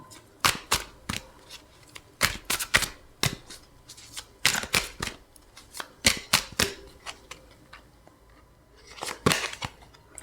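Tarot cards are shuffled as a second deck comes into use: a run of quick, papery riffles and slaps in irregular bursts, close and fairly loud, with short pauses between handfuls and no talking.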